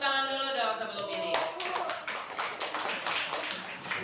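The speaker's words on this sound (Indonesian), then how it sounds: "Tepuk tangan dulu dong sebelum ini." Students in a classroom clap for a student group, starting after a short stretch of voice and then a dense, fairly close burst of hand claps continuing to the end.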